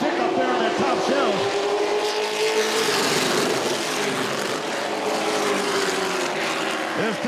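Race trucks roar around an oval track during a Camping World Truck Series race, loud engine drones sweeping and rising in pitch as they pass, with an announcer talking over the sound throughout.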